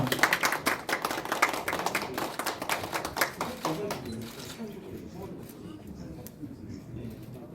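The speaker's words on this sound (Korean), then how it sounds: "큰 박수 부탁드리겠습니다" An audience applauds at a Korean dental periodontology society's Gum Day ceremony, with several seconds of close, sharp clapping from a small crowd that thins and fades out, leaving only faint room noise.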